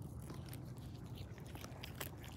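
A farm animal on a Florida farm chews close to the microphone, a steady stream of soft crunching and biting with small scraping clicks, continuous and fairly quiet, with no talking.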